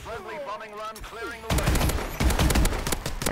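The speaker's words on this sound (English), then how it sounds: "I better get inside before that bombing run kills me" A bombing run in the Advanced Warfare Survival video game, heavy rumbling blasts and crackling bursts that start abruptly and continue loud and dense after someone talks over a quieter backdrop.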